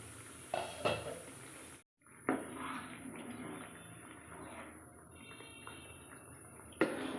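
A metal pot lid lifted off boiling corn and tomato soup, with a couple of sharp clinks near the start, then a steady bubbling simmer and faint clatter of kitchenware, ending on another clink.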